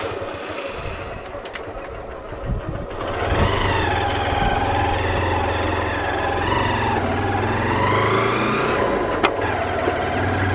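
A car drives the winding mountain road from Siliguri to Darjeeling, its engine a steady close drone that rises in pitch as it accelerates and labours uphill, with road rumble underneath.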